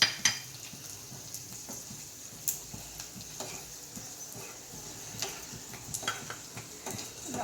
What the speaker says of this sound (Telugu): కొద్దిగా జీలకర్ర వేయించుకోవాలి.